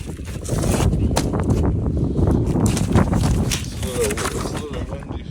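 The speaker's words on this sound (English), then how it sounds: "It's a little windy here." Gusty wind buffets the microphone outdoors, a steady loud rumble with breathy swells, while a Honda Prelude sits nearby for distributor housing repair; no clear talk over it.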